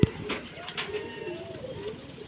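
Pigeons of a dark purple-footed pair coo softly in low, rolling calls nearby, repeated over a faint background hum with a sharp tap at the start.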